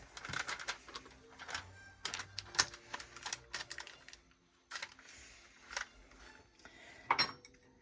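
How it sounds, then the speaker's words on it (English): Spatula scraping and tapping in a cake pan while spreading sweet potato honeybun cake batter evenly, a run of short clicky scrapes close to the mic that pause briefly and then resume. "Now you want to take your spatula and make sure that it is even."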